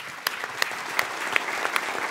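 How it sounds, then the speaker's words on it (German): A small group applauds steadily, with scattered sharp claps standing out over the continuous patter. "Ein Applaus"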